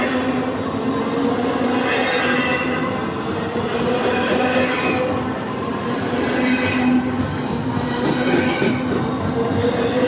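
A train rolls past in the Madisonville, Kentucky area, a loud, continuous rumble of railcars with clattering wheels and occasional high squeals, filling the whole stretch without letup.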